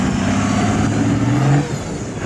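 GMC Silverado turbo pickup truck passing close by, a brief loud engine drone that rises slightly in pitch and then begins to fade as it goes past.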